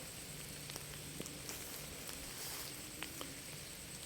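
Rain falling over a rice farm in Roxas, Isabela, a steady faint hiss with scattered sharper drops tapping on a surface, no voices.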